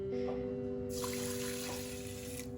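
Water pours from a tap into a pot of rice, a sharp rushing stream that starts abruptly and flows steadily over a constant electrical hum before easing off.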